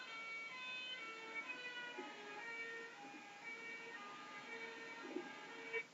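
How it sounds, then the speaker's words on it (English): A fire truck siren passes by, a faint, distant wailing tone whose stacked harmonics glide downward in pitch as it goes past, steady and alone with no voices. "As you see the fire truck drive by, then you'll see the middle and then the low."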